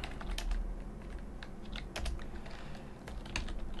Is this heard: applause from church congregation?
no